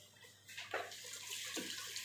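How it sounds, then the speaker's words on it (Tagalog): Running water splashes in a sink as a cooking pot used for a quail soup is washed, with two louder gushes over a steady close flow. "samahan niyo ako dahil hugasan natin ang ating pinaglutuan"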